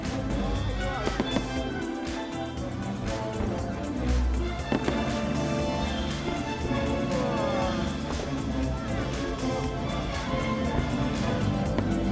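A fireworks show at a Disney park, with repeated bursts and crackles over a constant crowd and music bed.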